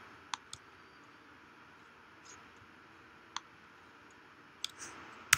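A handful of sharp, isolated computer mouse clicks, spaced irregularly over a quiet background hum, with a soft rustle near the end.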